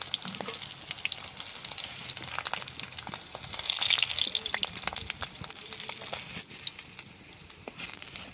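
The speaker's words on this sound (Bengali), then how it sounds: "দেখো মাছগুলো ভালোভাবে ভাজা হয়ে গেছে" Pieces of boal fish fry in hot oil with a continuous crackling sizzle and scattered sharp pops, fairly close and steady, swelling briefly about halfway through, with no one talking.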